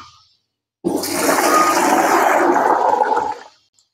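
Five litres of water pouring or gushing in a steady, close rush for about three seconds, used to mix a Newcastle disease vaccine for poultry, starting abruptly and tapering off.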